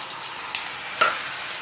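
Oxtail sizzling in a hot Dutch pot with onions, garlic and thyme: a steady broadband hiss of frying with two brief sharper crackles, close and moderately loud, no talking.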